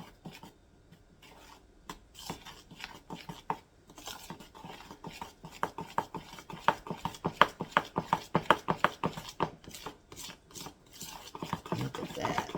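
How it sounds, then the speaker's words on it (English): Frosting for a cinnamon roll cake being mixed in a bowl, close rhythmic scraping and tapping strokes that quicken and grow louder, with no voices. "Now we're going to mix that together."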